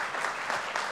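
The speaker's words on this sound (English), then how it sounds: "Please give Lori a round of applause for her." An audience applauds a panel member at a disability employment event, a steady wash of many hands clapping at moderate level for about a second, with no talk over it.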